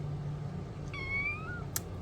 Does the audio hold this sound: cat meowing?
yes